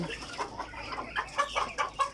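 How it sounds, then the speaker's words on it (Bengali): Fayoumi chickens, about two months old, cluck in short, repeated bursts close by, a steady run of clucks growing more regular toward the end. "এই যে মুরগিগুলো আমাদের দেখতেছেন, এগুলো আমরা বিক্রি করে ফেলবো"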